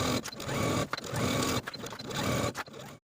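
Sewing machine edge stitching along the inner fold of a dress skirt, a steady mechanical whirr in several bursts broken by short pauses, close and moderately loud with no talking.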